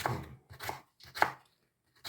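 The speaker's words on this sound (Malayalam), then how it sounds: "രണ്ടായിട്ടൊക്കെ ഇങ്ങനെ മുറിച്ചിട്ട് ഇങ്ങനെ കുരുകുരാന്നരിക്കണം" Knife chopping a green tomato on a board, three or four quick bursts of close, crisp cutting with brief pauses between, no voices.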